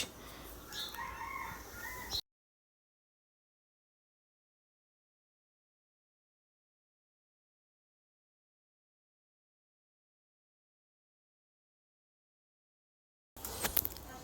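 Backyard chickens recently given vaccine cluck and a rooster crows in a short burst at the start, then a long silence, then a brief return of poultry noise at the end.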